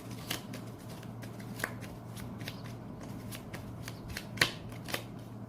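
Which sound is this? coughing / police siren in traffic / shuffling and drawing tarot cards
shuffling and drawing tarot cards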